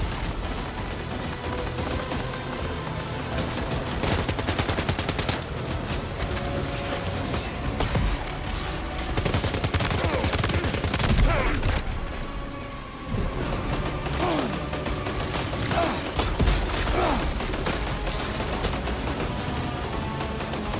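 Gun turret firing in the Death Stranding 2 video game, a dense and continuous mechanical rattle of shots with crashes and whooshes mixed in, loud and unbroken throughout.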